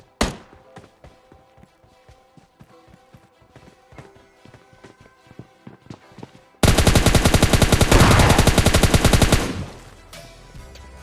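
Gunfire in the PUBG battle royale video game: scattered single shots and short bursts, followed by a loud sustained stretch of rapid automatic fire that then cuts off, with no talking.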